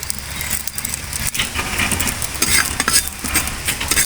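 Curry leaves dry-roasting in a pan for a medicinal idli podi spice powder, giving a steady close crackle and rustle of leaves being stirred against the pan, with occasional scraping strokes and no talk.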